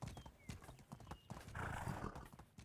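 Horses in the medieval farming game Medieval Dynasty clop their hooves in a steady rhythm, and one lets out a whinny, faint and fairly quiet overall.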